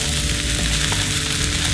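Clarified butter sizzles and fries steadily in a hot pan, a close, continuous crackle with no talking over it.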